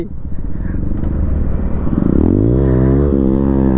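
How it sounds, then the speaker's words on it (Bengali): A motorcycle exhaust blares up close during a wheelie, starting with a rough, throbbing idle before the engine revs hard and its pitch rises sharply, holding a loud, strained note. "তোমার এক্সস্টার সাউন্ড শুনে মনে হচ্ছে রিঅ্যাকশন দিচ্ছে।"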